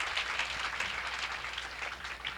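Congregation applauding during a Sunday church service, a steady, even wash of many hands clapping at moderate distance that carries on without a break from start to finish.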